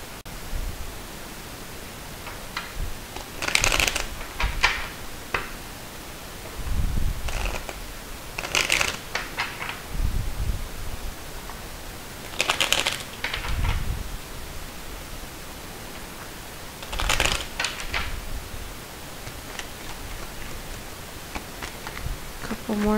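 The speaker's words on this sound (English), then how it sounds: "So I'm just going to shuffle a couple times" Tarot cards shuffled by hand in repeated bursts of riffling and rustling, several distinct rounds spaced a few seconds apart, close and fairly quiet with a faint background hiss.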